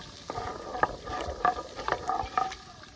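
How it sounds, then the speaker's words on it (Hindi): Whole spices frying in hot oil in a pan for an egg curry, with a steady close sizzle and bright crackles and pops breaking through every half second or so. No talking. "ये मसाले हम डाल लेंगे इस गरम तेल में और इनको हम फ्राई कर लेंगे"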